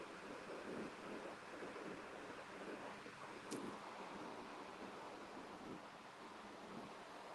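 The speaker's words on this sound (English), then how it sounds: "I see some waves way out there" Broadband wash of ocean surf at a beach, steady and somewhat distant, mixed with gusty wind buffeting the microphone throughout, with no voices.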